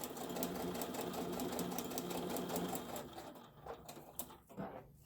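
Sewing machine stitching a fabric hot pad, a fast steady mechanical whirring clatter for about three seconds, then slowing into a few separate stitches and stopping, close and without talk.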